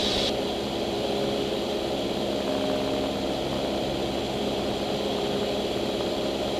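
Small propeller training aircraft in flight during a solo checkride prep, its engine a loud, continuous droning hum that stays steady throughout, heard from inside the cabin with no voices.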